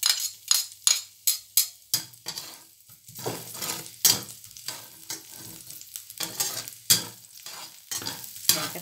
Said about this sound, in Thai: ใส่กระเทียมลงไปเจียวเลยนะคะ